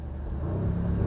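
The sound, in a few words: 2021 Audi SQ7 engine revving on third-gear downshift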